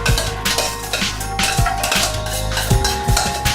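Polenta is spread out in a pan with a metal utensil, giving close, repeated scraping strokes and light clinks against the pan in an irregular rhythm, with no talking.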